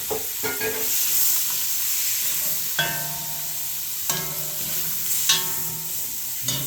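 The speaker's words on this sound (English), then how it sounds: "I want to get all that stuff off the bottom of the pan." Jersey chili is stirred and scraped off the bottom of a hot pan, with a steady sizzle under repeated close spoon scrapes and sharp knocks against the metal every second or so, with no talking.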